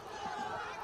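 A crowd murmurs and calls out at a polling booth during Bihar's first-phase election voting, a dense, steady babble of many voices at moderate distance, fairly faint and brief.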